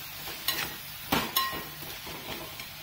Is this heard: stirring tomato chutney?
yes